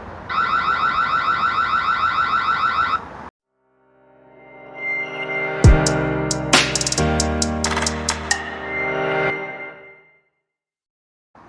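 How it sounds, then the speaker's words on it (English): A Ring home alarm system siren blares in loud, rapid pulsing bursts for about three seconds, stops abruptly, then a second electronic alarm tone sweeps and warbles loudly for several seconds before cutting off. "we can also turn the siren on or off remotely"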